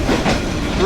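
A train rolls along tracks running right between houses in Vietnam, a loud steady rumble with clattering wheels close by.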